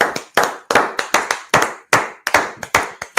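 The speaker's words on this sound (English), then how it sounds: "Clap it up." A crowd at a class gathering claps in about ten sharp, loud bursts, each clap ringing briefly before the next, in an uneven rhythm with no talking.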